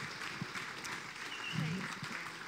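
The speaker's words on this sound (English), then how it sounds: "Would you all give the team a round of applause" An audience claps together for a team at a Big Tent 2024 concert, a steady wash of many hands that lasts the whole stretch at moderate volume with no talk over it.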